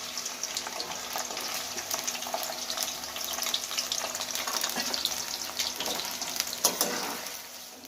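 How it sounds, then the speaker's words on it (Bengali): Sliced onions frying in hot oil in a kadai, browning toward crisp fried onion for chicken angara: a steady, close sizzle with dense crackling and occasional stirring clatter, no voices. "এবার পেঁয়াজ বেরেস্তার মতন ভেজে নেব।"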